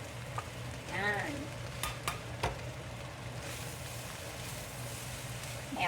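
Fried rice sizzling and frying steadily in a pan while being stirred, with a few scraping clinks of the utensil against the pan and a faint voice briefly in the background.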